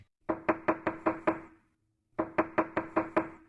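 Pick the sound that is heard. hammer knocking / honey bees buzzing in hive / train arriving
hammer knocking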